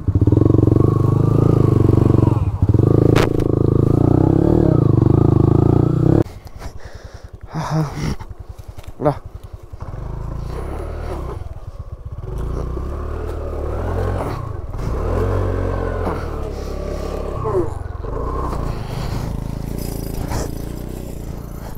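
A motorbike ridden on a rough jungle track, a loud steady engine drone that gives way to rattling, scraping and uneven revving as the bike struggles over the ground.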